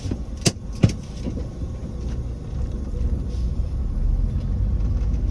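Road traffic in a jam, a steady low rumble of car engines building slightly over time, with a couple of brief sharp clicks or clanks near the start and no voices.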